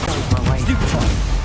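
A Stupefy spell fired in Hogwarts Legacy lands as a loud, noisy burst with crackling, gunfire-like impacts spread across a second and a half, while a voice calls out during the effect.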